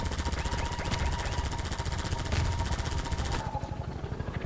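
Rapid, sustained automatic gunfire from a first-person shooter, Half-Life 2, chattering loud and dense for over three seconds before cutting off into quieter game ambience.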